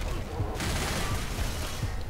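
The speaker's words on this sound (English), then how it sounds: "I was just shooting randomly" Rapid gunfire from the Left 4 Dead 2 zombie video game on expert mode, a dense continuous barrage of shots filling the moment, loud and close with no clear talk.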